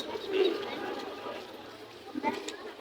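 Pigeons coo at the Atibazar livestock market, where pigeons, chicks and birds are sold. One soft coo stands out early, with more faint bird calls under steady nearby voices and market chatter.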